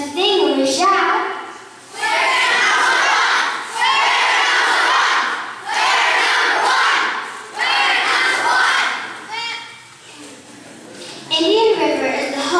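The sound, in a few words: audience singing and shouting in cheer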